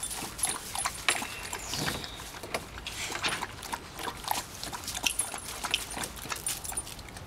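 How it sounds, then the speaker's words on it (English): A dog growls and snuffles while playing with another dog, giving low, uneven grumbles mixed with rustling and jingling close by, with no talk over it. "Hey, Pat, hey, quit growling"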